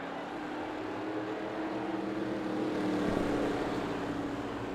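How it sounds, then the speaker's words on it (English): Race car engines start and drone together in a NASCAR-style racing video game at a Canadian Tire track, a dense, steady engine hum with a faint rise partway through and no talk. "Drivers, start them engines!"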